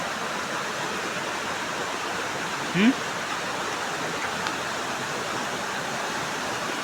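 A river pours over a tall drop near a village, making a steady, broadband roaring wash that fills the whole stretch without letup, with one brief rising chirp-like sound partway through.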